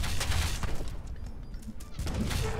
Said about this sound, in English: Let's do a bit of a long-range snipe through all these walls.